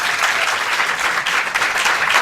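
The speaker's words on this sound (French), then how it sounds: "qu'on applaudit bien fort" Live studio audience applauding at the taping of a French television game show, a dense, steady wash of clapping that stays loud and even from start to finish with no voices on top.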